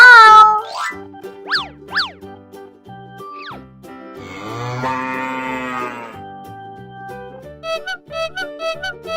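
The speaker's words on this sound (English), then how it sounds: "Cow." A cartoon cow moos in a playful children's animal song, the drawn-out call sitting among bouncy boing effects and bright musical notes.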